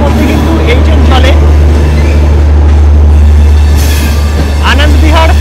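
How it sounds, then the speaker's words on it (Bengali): The Anand Vihar–Lucknow Double Decker Express rolls past very close and loud, a heavy continuous rumble and clatter of wagons with faint metallic wheel squeals rising above it. "Ananda Bihar Lucknow double decker express"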